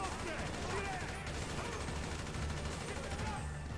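Grand Theft Auto V gunfire forms a steady, dense barrage of overlapping shots, fairly quiet and continuous throughout.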